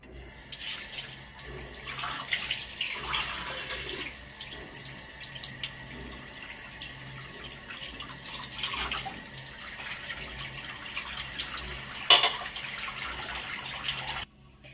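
Normal tap water runs and splashes while hair is rinsed in a basin, a steady trickling wash with brief gushes and drips, no talking over it.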